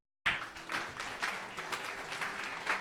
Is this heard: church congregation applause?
yes